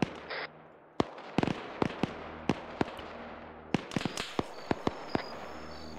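Artillery shells from a fire mission in a military video game land in a series of sharp, distant-sounding booms and cracks, irregularly spaced across several seconds, some in quick pairs, with a low rumble underneath.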